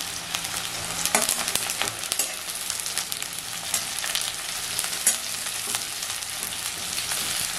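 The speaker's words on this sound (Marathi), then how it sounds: "कांदा लालसर होईपर्यंत खरपूस भाजून घ्यायचा. थोडा फास्ट गॅसवरच असा सुट्टा करून घ्यायचा." Chopped onion sizzles in a pan over a high flame, the base for prawn rice: a steady, loud frying hiss with sharp clicks and scrapes from stirring throughout.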